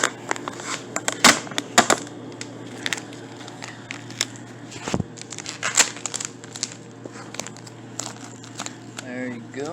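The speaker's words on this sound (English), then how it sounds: "Let me open up this box here." Cardboard box holding a fishing rod and reel being opened, with sharp crinkling, crackling and tearing of packaging in irregular bursts, near and fairly loud, under intermittent talk.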